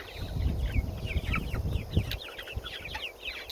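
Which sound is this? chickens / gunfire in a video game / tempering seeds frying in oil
chickens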